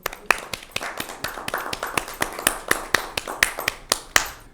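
Applause from a Catholic TV studio audience welcoming guests to an Easter family-life show: a steady run of sharp, distinct hand claps from a small group, close and crisp, with no talking.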